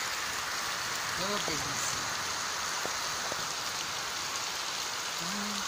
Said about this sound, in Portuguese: Tem uns 20 minutos que tá chovendo.